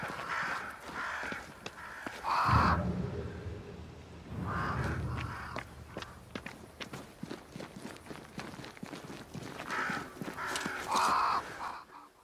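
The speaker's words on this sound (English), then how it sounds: "crows. They flock to that great tree up there." Crows caw in a fantasy game set in the New England wilds, a few harsh calls near the start and end over a steady outdoor ambience with scattered footsteps and faint clip-clop.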